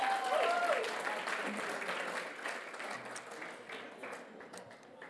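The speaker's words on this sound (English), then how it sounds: "Another round of applause, please, for Eva Jones." An audience applauds at the 2022 Victorian Aboriginal Honour Roll ceremony, a dense, sustained wash of clapping that slowly fades, with a voice briefly heard at the start.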